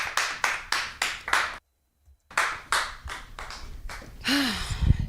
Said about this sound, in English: applause, guys